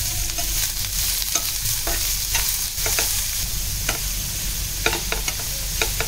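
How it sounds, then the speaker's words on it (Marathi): Sliced onions with curry leaves sizzle and fry steadily in a pan, a constant close frying hiss broken by repeated scrapes and clinks of a spoon stirring, with no voices. "आता हे लालसर होईपर्यंत पहिला आपण परतून घेऊया"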